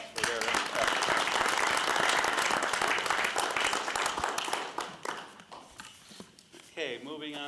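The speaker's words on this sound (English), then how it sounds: "let's give them a round of applause for their effort" An audience at a city council meeting claps in a dense, sustained burst that thins out toward the end, with a voice briefly heard afterward.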